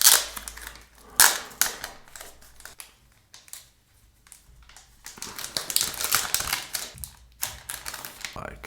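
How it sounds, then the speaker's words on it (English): Protective plastic film is peeled off a Kindle Paperwhite Signature Edition 2022 e-reader, giving close crinkling, crackling and sharp snapping bursts, with a quieter stretch in the middle and louder rustling toward the end. "But let's remove this plastic first."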